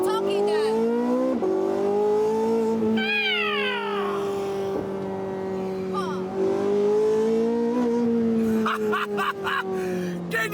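Porsche 918 Spyder's naturally aspirated engine revs loudly, its pitch climbing and falling in repeated sweeps, with a harsh, close exhaust note that dominates the whole stretch.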